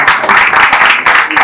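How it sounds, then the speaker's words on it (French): Loud, close applause and clapping for a first-place prize winner at the FESTICAB 2024 international film and audiovisual festival in Burundi, a steady mass of claps with brief dips. "Applaudissez pour lui."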